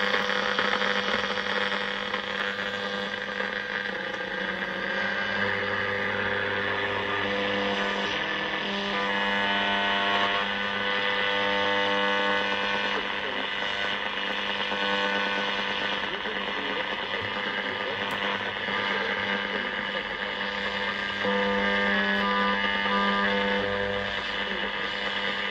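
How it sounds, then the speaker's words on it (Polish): An Unitra Eltra Lena 2 radio receiver tuned to the long-wave band plays a broadcast steadily and loudly, with a continuous hum and hiss throughout and no pauses. "Sprawdźmy sobie, czy złapiemy sobie na tym odbiorniku program pierwszy polskiego radia na zakresie fal"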